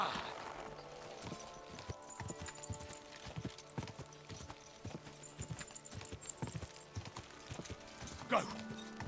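Horse hooves clip-clop at a steady walking rhythm in the medieval video game Kingdom Come: Deliverance II, close and moderately loud, with some voice and game ambience underneath.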